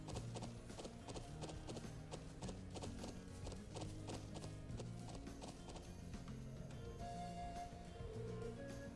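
Steady clip-clop of horse hooves trotting through the whole stretch, layered over a constant soundtrack from the video game The Legend of Heroes: Trails of Cold Steel, with a brief whinny near the end.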